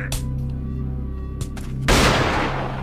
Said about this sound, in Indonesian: Tuan Crab ditembak sama dia.